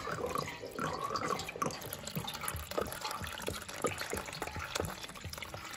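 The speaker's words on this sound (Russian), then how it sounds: "Теперь нам нужно просто слить воду с этой батареи" Water pours and trickles steadily from a heating radiator of a private house's heating system into a container, a continuous splashing flow with occasional drips.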